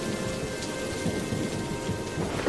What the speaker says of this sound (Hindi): आसमान में बिजली कड़कने के साथ साथ जोर से तूफानी हवाएं चलने लगती हैं और साथ ही तेज बारिश भी शुरू हो जाती है।